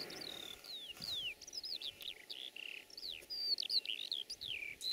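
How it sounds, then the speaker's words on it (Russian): Starlings fly in over a steppe meadow near Vorontsy, giving a quick series of thin whistled chirps and twitters, faint and distant over soft background noise. "Залетают скворцы."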